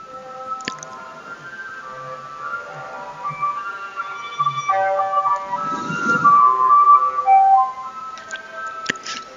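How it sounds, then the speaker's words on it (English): A wobbly, melodic ice cream truck jingle heard in the Dark Souls III video game, tones shifting and overlapping beneath squishy, dripping game effects. "Shut up, ice cream truck."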